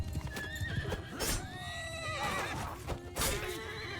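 Cavalry horses in a medieval battle video game whinny and neigh repeatedly while hooves clatter underneath, a busy, loud mix of rising and falling calls over rhythmic clip-clop, with no voices.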